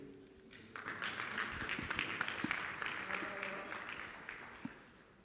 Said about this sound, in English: Another round of applause to the ambassador and to the people of Germany